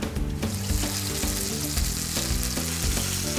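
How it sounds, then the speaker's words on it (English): Beef pan-searing in hot oil on a hot pan, a steady close sizzle and crackle running continuously throughout at even loudness, with no voices over it. "On a hot pan, add some oil and pan-sear your beef until evenly browned."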